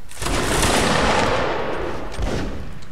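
A massed musket volley fires in a line-battle video game with a loud, sustained roar that slowly decays, followed by a second, fainter burst of shots near the end.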